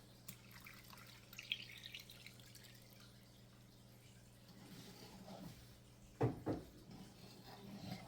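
Two cups of apple cider vinegar poured into a crock pot of plum sauce, heard as faint liquid trickling and a short burst of splashing near the end against a quiet kitchen background.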